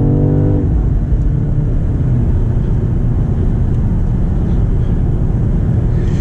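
A 2023 BMW XM accelerates hard on a back road to pass another vehicle, giving a steady, loud low engine and road roar that holds throughout, with a brief harmonic tone at the start.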